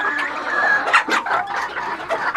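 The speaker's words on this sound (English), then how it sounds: "And these are bantam chickens." Bantam chickens cluck and squawk close by in a rapid, irregular series of short calls, some rising into sharper cries, with no speech over them.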